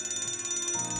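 An alarm clock rings steadily to wake someone at home, a continuous bright metallic bell trill that is loud and close, with no talk over it.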